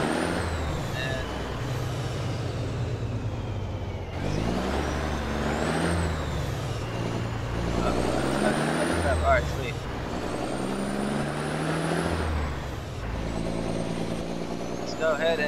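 A heavy truck in American Truck Simulator rumbles with a droning engine whose pitch rises and falls through gear changes, punctuated by sharp hissing releases of the air brake.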